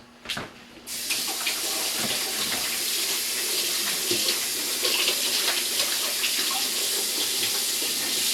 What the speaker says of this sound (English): now I'm going to rinse my hands off with some water